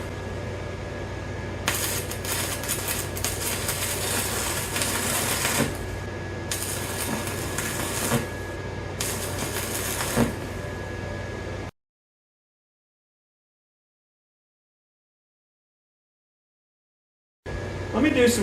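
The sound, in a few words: stick welding on the edge of steel in a vise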